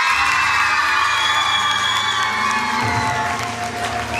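Audience at a school camp stage show in Balatonszemes cheering, whooping and clapping to welcome a band, a dense loud wash of crowd noise throughout with a low musical hum underneath.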